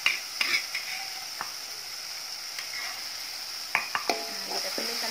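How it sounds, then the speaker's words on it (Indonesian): A ground spice paste for a stir-fried clam dish sizzles in a pan, a steady close hiss broken by scattered clinks and scrapes of a utensil against the pan, with a small cluster of knocks near the end. "Dan kita langsung tumis bumbu yang sudah kita haluskan tadi"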